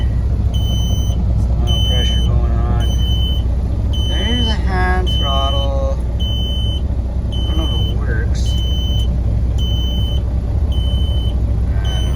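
A low air warning buzzes in the cab of a 1997 Peterbilt 377 with an N14 Cummins, a steady repeating beep pattern running throughout over the loud idling engine rumble, with a person speaking briefly.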